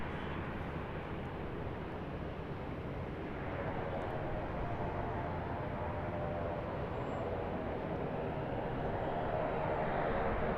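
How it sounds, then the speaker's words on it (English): Qantas Boeing 737-800 taking off from runway 34 right, a loud broadband jet roar that builds and thickens midway, sustained and alone without talk. "737-800 off of 34 right."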